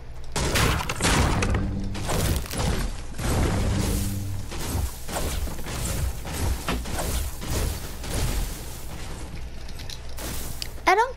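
Repeated hits break objects in the video game Fortnite, a rapid series of sharp thuds and cracks with crumbling debris and clattering bursts, irregularly spaced over about eleven seconds.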